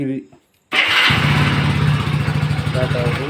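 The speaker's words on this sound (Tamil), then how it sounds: "பைக் ஸ்டார்ட் பண்ணி பார்க்கலாம்" A Hero Splendor BS6 motorcycle engine cranks and catches after a brief pause, then settles into a loud, steady putter close by, with a voice heard briefly at the start.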